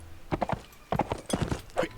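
Horse hooves clip-clop in bursts during a mounted ride in Mount & Blade: Warband, several short rhythmic runs of hoofbeats separated by brief pauses, fairly close and moderately loud.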